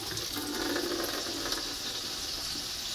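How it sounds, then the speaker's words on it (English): Water runs steadily from a kitchen tap while hands are washed, a continuous close splashing gush that fills the short stretch without talk, set amid cooking shrimp and scallops piccata. "Alright, so let me wash my hands."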